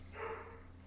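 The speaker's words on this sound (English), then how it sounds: "Sorry, Lucy's barking" A dog barks once at a distance, a single short, muffled bark in a quiet room over a low background hum, with no talking.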